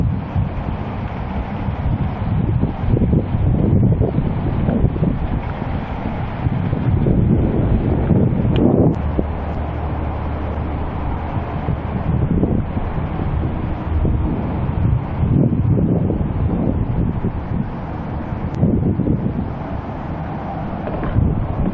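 Strong wind blowing by the Willamette river, heavy low rumbling buffets on the microphone with a rushing hiss, loud and continuous for the whole stretch.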